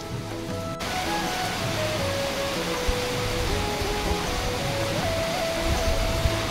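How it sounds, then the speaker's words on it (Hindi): Heavy rain falls in Nepal during a sudden overnight change in weather, a dense steady hiss with scattered drops striking surfaces nearby and no speech. "लेकिन उम्मीद करूंगा ये बारिश बहुत ज्यादा देर तक तेज नहीं रहेगी।"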